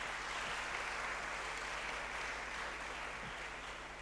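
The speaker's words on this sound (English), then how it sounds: "Please, let's clap for him." An audience at a university department's anniversary colloquium applauds steadily for a few seconds, a soft, even wash of clapping heard from a distance over a low hum.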